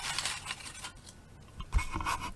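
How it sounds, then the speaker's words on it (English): Paper slips bearing names for a giveaway drawing are shuffled by hand at close range, giving a continuous dry rustling and scraping with a few sharper crinkles and no voices. "let's kind of quick shuffle these names"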